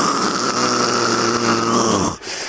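A stand-up comedian imitates snoring with his voice, making loud, drawn-out rasping snores close to the microphone that break off abruptly near the end, with no words spoken.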